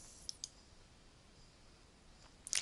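A computer mouse clicks a few times in a quiet room: two faint, sharp clicks near the start and a louder cluster of clicks at the end.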